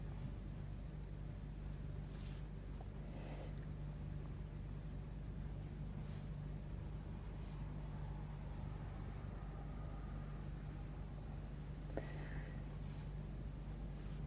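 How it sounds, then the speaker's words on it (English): Coloursoft coloured pencil sketching a rough red pepper outline on black paper, a steady soft scratching close by over a low constant hum, with no talking. "we'll just quickly draw in the rough shape of a pepper"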